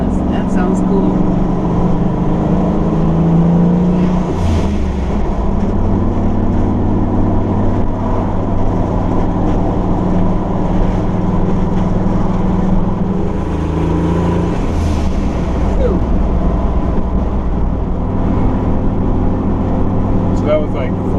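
Turbocharged 460 engine vehicle pulling at partial throttle in fourth gear, a loud steady in-cabin drone with rising and falling engine tones over road rumble, while people talk throughout.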